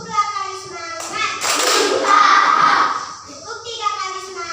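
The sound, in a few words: children clapping in classroom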